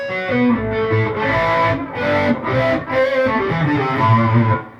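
PRS SE electric guitar played through its bridge pickup with heavy distortion, sustained overdriven chords and riffs ringing out loud and articulate, with rhythmic chord changes and no talking.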